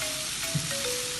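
Onions, spices and okra fry in a pan for masala bhindi, giving a brief, dense, continuous sizzle close by with a soft stir.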